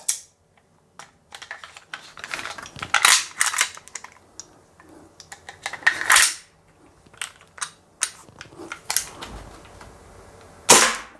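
A G&G GPM1911 gas blowback airsoft pistol fires BBs: sharp, crisp cracks come at irregular intervals, some in quick pairs, mixed with small mechanical clicks and handling noises in an otherwise quiet setting.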